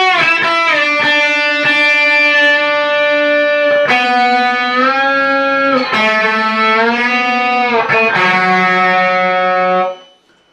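Electric guitar solo from a song's radio version, played with slides on the second string and heavy vibrato through distortion effects: loud, sustained, bending lead notes in phrases, alone, ending abruptly.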